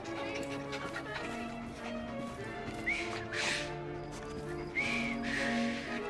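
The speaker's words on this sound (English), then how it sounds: "I've just learned to whistle." A game character in Assassin's Creed: Syndicate whistles two short rising tones, each followed by a breathy hiss, over a steady bed of background music and ambience.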